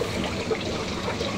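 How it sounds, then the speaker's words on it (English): Water pours through a single fill point into the new water tanks aboard a 12 m boat, a soft, steady trickle and gurgle heard faintly up close with no talk. "Water going in."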